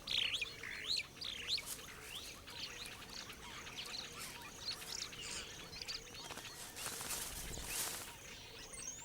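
Weaver birds in East Africa chirp and twitter in a busy chorus, many quick high calls overlapping with fainter distant birds, steady throughout and free of talk.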